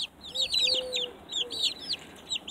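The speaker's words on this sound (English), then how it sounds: "But these are buff Orpingtons. They're 30 days old today." Buff Orpington chicks, 30 days old, peeping and chirping in a busy overlapping chorus with soft clucks, close up over a faint background hum.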